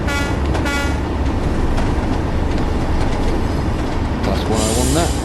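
A Class 101 diesel train passes in the Train Sim World game on the Tees Valley Line, a loud rumbling rush with harsh horn-like toots near the start and end, over continuous rail noise.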